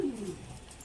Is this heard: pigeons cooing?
yes